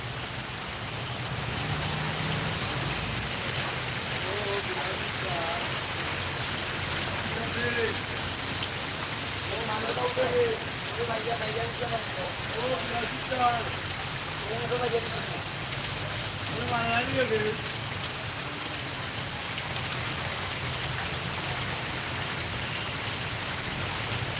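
Heavy night rain pours down in Sylhet as a dense, continuous hiss of drops hitting surfaces, with wind picking up and a few faint voice-like murmurs in the middle.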